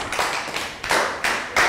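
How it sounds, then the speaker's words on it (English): Primary school class giving a round of applause in a lesson: a few loud, close, scattered claps and taps from a small group, uneven and brief, with no talking. "Round of applause for Dan."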